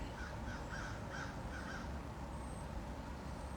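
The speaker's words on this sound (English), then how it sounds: "you listening to these crows or birds in my background" Crows caw repeatedly in the background, a series of distant rhythmic calls over steady outdoor ambience, faint and without any talking.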